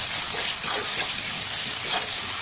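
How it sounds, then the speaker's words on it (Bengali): Potatoes sautéing with turmeric and chili powder in a pan for a potato curry, a steady hiss and sizzle with soft scraping stirs rising and falling throughout. "আলুটা দিয়ে দিই, আলুর সাথে কষাই"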